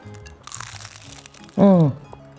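A crunchy bite into a crispy pastry with ricotta, parmesan and garlic, a single brief crackle up close, with a short voiced sound right after it and soft background noise before.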